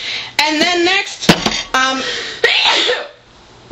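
A sharp, short sneeze bursts out between stretches of nearby talking, loud and abrupt against the speech.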